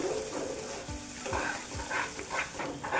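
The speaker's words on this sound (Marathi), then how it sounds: "इथं आता आपण कांदा टोमॅटोची प्युरी तयार करून घेतली ती टाकून घेऊया, मिक्स करूया।" Onion-tomato puree being stirred into frying masala paste in a pan for matar paneer, with steady sizzling and a few scraping strokes, close and moderately loud; a faint dog bark may sound in the background.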